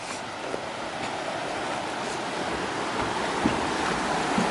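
River water flowing during a hiking crossing on the Pacific Crest Trail, a steady broadband rush with wind noise, constant and fairly loud throughout.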